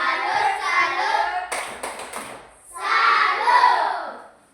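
Children chanting the Indonesian clapping cheer "tepuk salut" in a classroom, with loud bursts of rhythmic hand claps that break off briefly in the middle before the group chant resumes.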